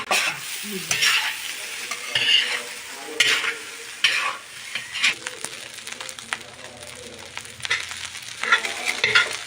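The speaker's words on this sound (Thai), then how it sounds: "เตรียมพร้อมเอากระทะยักษ์มาทำข้าว" Rice sizzling as it is stir-fried in a giant wok while a utensil scrapes and stirs in repeated strokes, loud and close, with clattering metal.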